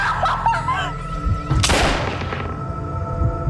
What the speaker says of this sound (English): Rachel gets shot numerous times